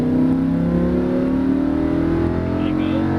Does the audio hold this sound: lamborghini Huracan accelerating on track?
yes